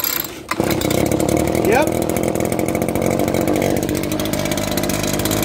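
An Echo chainsaw started without the choke fires up with a short pull and settles into a loud, steady, buzzing engine roar that holds throughout, with a brief spoken word near the start.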